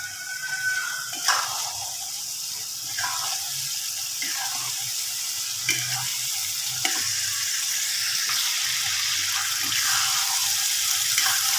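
Split urad dal with spices fries in hot oil over medium heat, a steady close sizzle with occasional soft scrapes and clinks from a spoon, and faint voices in the background.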